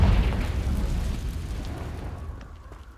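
Confringo fire-blast spell from Hogwarts Legacy detonating as a loud, close explosion with a deep booming body that rolls off steadily over a few seconds, ending in faint crackles.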